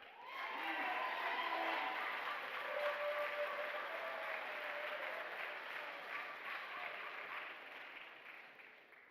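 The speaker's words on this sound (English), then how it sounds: "Once again, a big round of applause for the 2022 cheerleading squad." Sustained audience applause at a 2022 cheerleading awards ceremony for the cheerleading squad, a dense, steady wash of clapping that holds loud for several seconds and then gradually thins, with faint voices mixed into the crowd.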